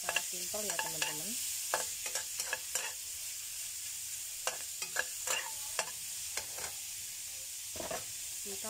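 Pan frying with a steady sizzling hiss, broken by scraping and clinking of a utensil stirring, no talking.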